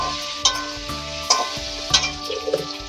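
Potato pieces sauté in a pan for Bengali aloo dum, with a low steady sizzle under a few distinct scrapes and knocks of a spatula against the pan, close and without speech.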